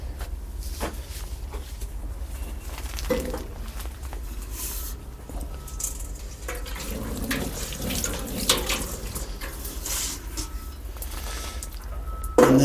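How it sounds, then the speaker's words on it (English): Seedling tray on an indoor windowsill being watered, heard as a soft, continuous trickle and patter of water with a few light knocks and handling sounds, close and fairly quiet. "Now I am going to water this tray."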